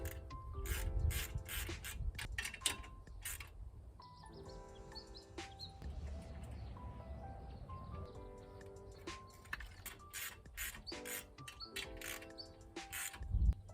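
A wrench ratchets a lock washer and nut onto a U-bolt on a tractor hydraulic coupler bracket: repeated bursts of close, crisp clicking pawl strokes with metallic ringing, continuing in uneven rhythm throughout.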